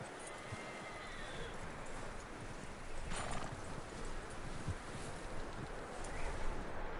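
Steady clip-clop of horse hooves with a whinny partway through, over a windy, rumbling outdoor background, from the video game Red Dead Redemption 2.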